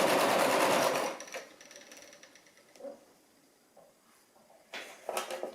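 Brother LX-3125 sewing machine stitching fabric for an apron, a loud rapid whirring run that stops abruptly, followed by quieter clicks and handling noises and a short burst of mechanism near the end.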